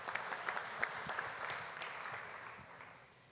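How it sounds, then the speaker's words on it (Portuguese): A conference audience applauds after a speaker is introduced at a specialized journalism panel, steady clapping from many hands that swells briefly and then tapers off toward the end. "Agora sim, uma salva de palmas com ela."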